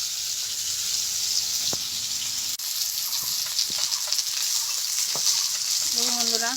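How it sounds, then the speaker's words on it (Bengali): Fish sizzles in hot oil in a pan in a village kitchen in Bengal, with a constant loud hiss, a few metallic scrapes and stirring clinks over the top. "দেখুন বন্ধুরা, মাছটা ভাজা হয়ে গেছে।"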